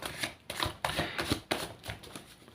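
Tarot cards being shuffled up close in a rhythmic run of sharp riffling bursts, about six strokes, with no voices over them.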